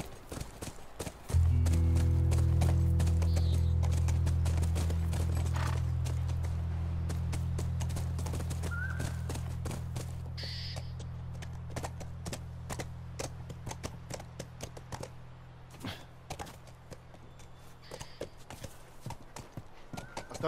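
Horse hooves clip-clop at a ranch in The Last of Us, a continuous run of sharp hoof strikes over several seconds, with a steady low rumble underneath that slowly fades.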